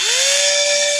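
A power drill whines steadily for a moment, its pitch rising as it spins up while tightening nuts on the back of a homemade 220V extension board, loud and close with no talking.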